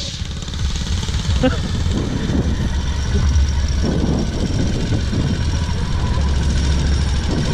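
A loud Camaro engine drones steadily nearby at a car show, rumbling and revving as it accelerates, with voices talking over it.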